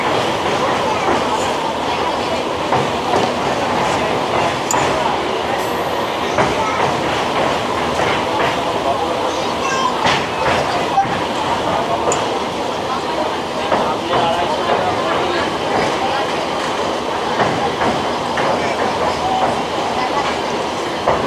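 Local train on the Digha–Howrah line crossing the high rail bridge over the Rupnarayan river, a steady, loud rolling rumble with faint rhythmic clatter throughout, no pauses, with possible low voices mixed in.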